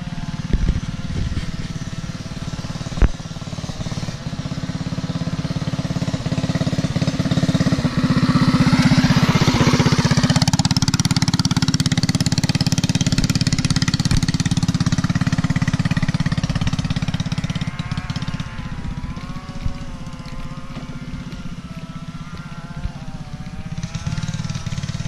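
A motorcycle rides around a bend on a dirt track, its engine rising from a distant drone to a loud close pass and then fading away, with a slightly choppy idle.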